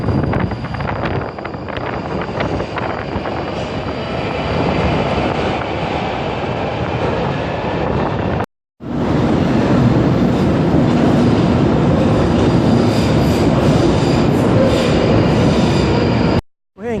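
Train riding along an old Victorian railway line, a continuous loud rumble of wheels and carriage noise with wind buffeting, broken by two brief dropouts, and no speech.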